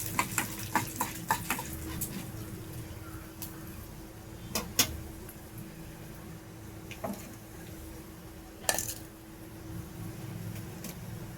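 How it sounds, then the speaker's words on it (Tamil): Urad dal roasting in a pan for chutney, heard as a low, soft sizzle under a series of sharp scraping stirs and clicks that come in uneven bursts. "உளுத்தம்பருப்பு நல்லா சுருக்க வறுத்துட்டு"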